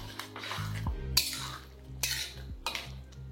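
Spoon stirring chicken chopper sauce in a pan, with repeated clinks and scrapes of metal against cookware spread across a few seconds, close and fairly quiet, with a steady low hum beneath.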